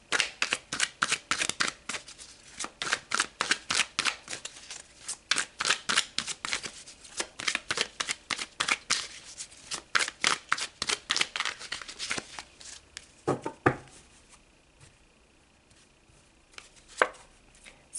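Tarot cards are shuffled by hand in quick, crisp riffling bursts, a rapid rhythmic flutter of card edges that runs steadily before slowing into a few scattered taps near the end.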